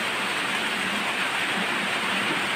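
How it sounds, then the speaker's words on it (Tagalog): Heavy rain pouring onto a street, a loud, unbroken broadband hiss of downpour filling the whole stretch with no gaps or voices. "Grabe, lakas ng ulan."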